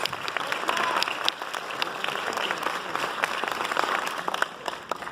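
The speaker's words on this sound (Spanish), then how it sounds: "denle otro aplauso a Susana Zabaleta, por favor" A studio audience claps for singer and actress Susana Zabaleta, dense sustained applause filling the room at a steady, fairly loud level, with faint voices mixed in.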